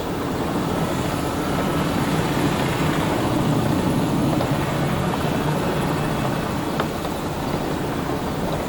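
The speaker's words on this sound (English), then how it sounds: "Enemy helicopter, get down." Loud, steady helicopter rotor thrum fills the scene, a constant droning chop with no letup, from an enemy helicopter flying overhead in Call of Duty 4: Modern Warfare.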